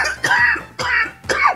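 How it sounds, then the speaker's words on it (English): Three harsh, close coughs in quick succession, each a loud burst with brief pauses between. "I'm about to start coughing"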